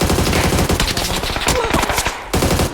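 Rapid automatic gunfire in the PUBG video game, loud and close, fired in dense continuous bursts with a brief gap near the end.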